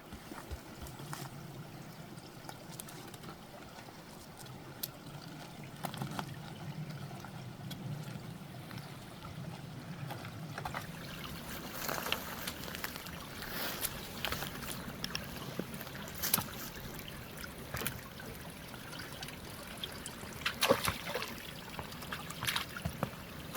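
Water trickles faintly in a stream beside a hiking trail on the Old Cascade Crest Loop, a soft steady rushing with light footsteps and rustling, quiet and continuous.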